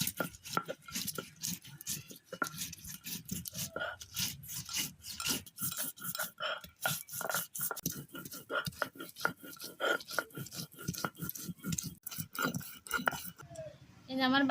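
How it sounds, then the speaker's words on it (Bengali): Cumin, mustard seeds and other spices being ground into a paste on a grinding stone in a village kitchen, with rapid, continuous rhythmic rubbing and scraping strokes, close and steady throughout. "আমি প্রথমে এইগুলো একসঙ্গে বেটে নেব"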